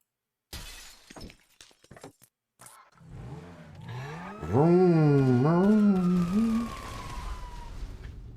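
An engine startup in the video game Astroneer: scattered clicks and clunks, then a rising, wavering harmonic whine that swells loudly and sweeps upward before easing into a steady hum.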